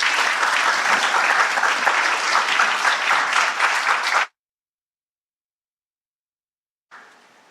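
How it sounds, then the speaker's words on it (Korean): A church audience bursts into loud, dense applause to welcome a speaker to the stage, sustained for about four seconds, then cut off to silence before a brief faint return. "please give him a round of applause"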